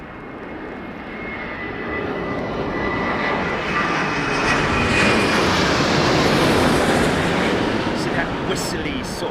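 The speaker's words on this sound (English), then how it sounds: "that whistly sort of noise that you get from the Dreamliner is quite unique to the Dreamliner" A Boeing 787 Dreamliner passes loud and close at London Heathrow during a storm, its engine roar carrying a distinct high whistling tone that builds and holds throughout.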